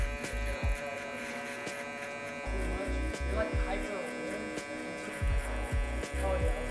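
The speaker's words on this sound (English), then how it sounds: "following it up with the electric shaver to bald it out" Electric shaver balding out the hair at the bottom of a mid fade during a barber tutorial, a steady close buzz with brief louder pulses as the clippers move over the scalp.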